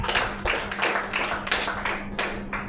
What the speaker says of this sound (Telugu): గట్టిగా చప్పట్లు పెడదాం.